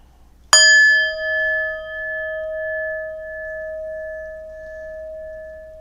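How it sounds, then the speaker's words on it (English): A meditation bell is struck once, a clear bright onset followed by a long, pure ringing tone that slowly fades in a quiet room. "as the bell comes to an end"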